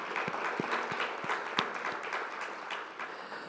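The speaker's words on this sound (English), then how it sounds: "I think we can give a clap for that too." Audience at a Mount Vernon city address applauds with a steady wash of clapping and a few sharper, louder claps standing out, sustained at moderate level without speech.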